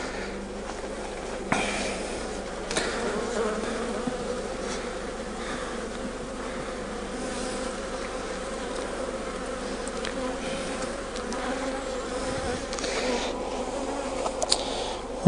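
Honey bees buzz densely and continuously around an opened Langstroth hive during a frame inspection, a close, steady drone with occasional louder passes near the microphone.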